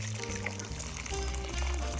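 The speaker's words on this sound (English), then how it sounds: "Add some hot water." Hot water pours steadily into rice and vegetables in a rice cooker, a close, continuous splashing stream lasting about two seconds.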